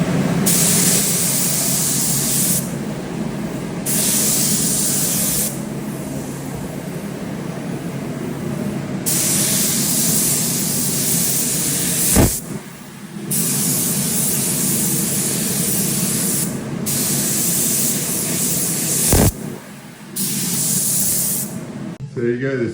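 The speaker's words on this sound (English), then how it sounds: "So we've got the clear mixed up and just about to start spraying." Spray gun laying clear coat onto a car wheel, a loud close hiss in long sustained passes broken by short gaps, with a little talk in the background.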